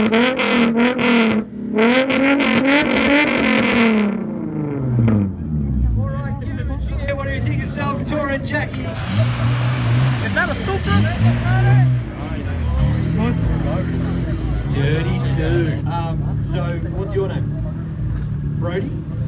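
A car engine, parked in neutral with the handbrake on, revs hard against the rev limiter, its note surging and cutting while pops and crackles burst from the exhaust, loud and continuous, with people talking over it.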